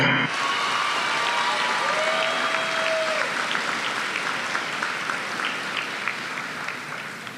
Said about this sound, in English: Let's give Fee a big, huge round of applause.